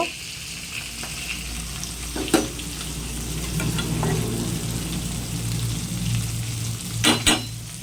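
Fish frying in a pan sizzles steadily in a home kitchen, with a few sharp clinks and scrapes of a utensil against the pan cutting through the continuous crackle.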